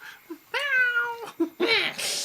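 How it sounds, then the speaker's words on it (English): A cat meows twice, close and fairly clear: a drawn-out, wavering meow followed by a shorter, harsher one, with a few small faint sounds in between. "It's just a cat."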